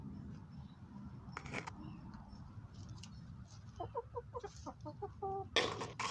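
Newly acquired chickens cluck nearby in a quiet setting, with faint clucks early on and then a rapid run of louder clucks and squawks toward the end.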